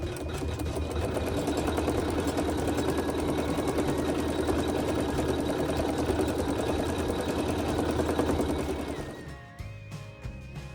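An embroidery machine sews quilting into the corner of a HoopSisters Freshly Picked quilt block with a fast, even mechanical hum for about nine seconds, then stops, leaving faint clicks.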